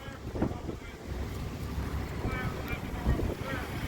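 Strong gusting wind buffeting the microphone outdoors at a gas station in Kentucky on a windy day, a loud continuous rumbling roar with a voice faintly heard through it.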